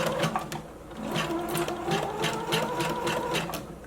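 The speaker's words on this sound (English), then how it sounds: "go ahead and change your machine to a zigzag stitch. Begin sewing." A sewing machine runs a zigzag stitch on fabric for a drawstring elastic-waist maxi skirt, a steady, fast, rhythmic mechanical patter heard up close, with no one talking.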